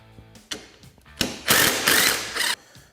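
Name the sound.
ratchet removing radiator mount bolts on a Polaris RZR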